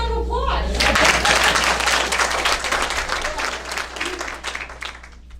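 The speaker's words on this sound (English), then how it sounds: "Give him a round of applause." Audience at a local meeting breaks into sustained applause for a guest from a U.S. senator's office, many hands clapping steadily at moderate loudness under a low hum, with a brief voice at the start.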